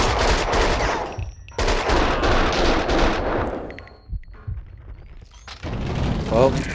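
Gunfire in Max Payne 2, rapid bursts of shots in loud clusters with short pauses between, mixed with booming game action and a voice talking over parts of it.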